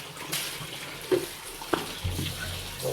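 Water splashing and pouring for a bath on a hot day, with a few distinct slops and splashes over a low, steady running-water background, close by and with no speech.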